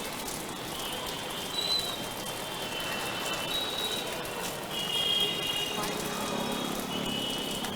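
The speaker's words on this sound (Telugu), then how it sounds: "హైదరాబాద్ వ్యాప్తంగా కూడా అన్ని ప్రాంతాల్లో వర్షం కురుస్తున్న పరిస్థితి." Heavy rain pours across Hyderabad in a steady, dense hiss that holds throughout at a moderate level, with faint high tones over it.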